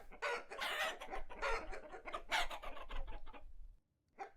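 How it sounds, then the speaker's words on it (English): Many chickens in the video game Vintage Story cluck and squawk in dense, overlapping bursts close up for several seconds, then fall quiet before one last short cluck. "Oh my god, look how many chickens we have."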